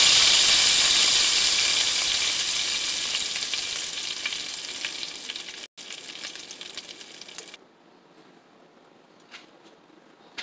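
Pork chops sizzle and fry loudly in a hot greasy pan, a dense steady hiss that fades gradually before cutting off near the end, with no talk over it.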